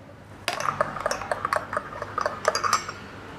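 A tablespoon scooping and tapping Ovaltine chocolate powder, a run of close, light metallic clinks against a container, irregular and fairly crisp, with no voices.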